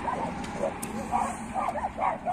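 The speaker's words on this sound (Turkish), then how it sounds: "Köpekler onu koşturuyor." Farmyard dogs bark and yip in short bursts near a chicken coop, somewhat distant, mixed with background voices and outdoor noise.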